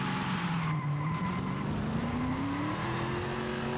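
A Mustang in Forza Horizon 5 on vintage racing tyres, its engine rising in pitch as it accelerates while the tyres screech in a long continuous skid, loud and close.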